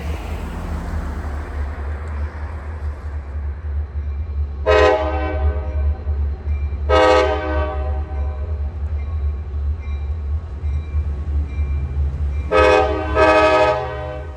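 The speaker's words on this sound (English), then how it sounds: "Here we see LO22 returning from ADM, street running back toward the Amtrak Hudson line before heading for Selkirk Yard." Street-running freight train LO22 with locomotive 8846 leading, sounding four loud horn blasts in two groups over a steady low diesel rumble close by.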